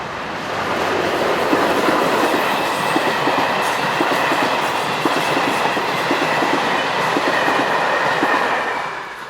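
Czech dual-voltage electric locomotive 362122 hauling a passenger train south, a loud steady rumble with a regular clickety-clack of wheels over rail joints as it rolls past.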